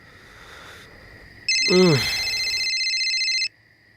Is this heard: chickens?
no